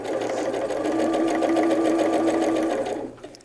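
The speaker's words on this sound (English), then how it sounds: "I'm just going to sew these in pairs" A sewing machine stitching quilt block pieces together in pairs, a steady, close, rapid mechanical whirr running for about three seconds before stopping.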